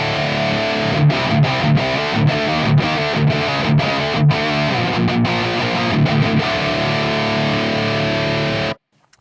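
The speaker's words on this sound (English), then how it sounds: "I have like a Mesa Dual Rectifier thing loaded up, which sounds like this." Electric guitar played through a ToneX capture of a Mesa Dual Rectifier amp gives thick, heavily distorted chugging riffs with rhythmic stops, loud and close, then cuts to silence at the end.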